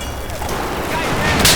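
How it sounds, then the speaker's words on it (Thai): Battlefield 4 multiplayer combat with a rapid fusillade of gunfire and explosions, loud and dense, swelling into a sharper blast near the end, with a player's voice briefly audible underneath. "โอ้โหระเบิดอีกแล้ว"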